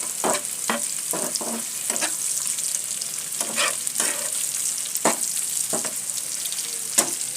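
Pieces of chicken meat sizzle steadily in a hot pan while a utensil scrapes and stirs them in repeated bursts, close up and with no talking.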